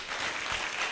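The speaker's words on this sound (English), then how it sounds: "Let's give him a round of applause for that." Brief burst of audience applause at a live chat event, soft and fairly distant, a dense patter of clapping lasting about a second.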